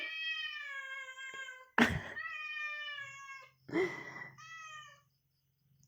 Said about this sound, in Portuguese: Este é o meu gatinho que está a miar.